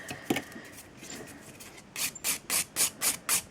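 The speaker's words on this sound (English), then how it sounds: "we're just going to start buffing over the surface, going from all angles" A file buffs the surface of a sculpted acrylic coffin-shaped nail: quiet scattered scraping first, then six quick, evenly spaced rasping strokes, close and crisp, with no talking.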